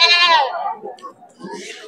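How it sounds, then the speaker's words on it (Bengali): At a busy goat market, one goat gives a loud, close bleat, followed by softer bleats and murmuring voices in the background. "বেশ সুন্দর সুন্দর ছাগল রয়েছে।"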